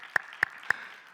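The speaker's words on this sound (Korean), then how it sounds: "우리 한번 박수 한번" At a church young adults' gathering, three separate sharp hand claps sound at an even pace, quiet and close, with silence between them and no crowd applause following.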